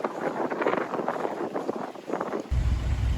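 Steady wind buffeting the microphone with gusty rumble on Bonaire, a heavier low blast near the end; no voices.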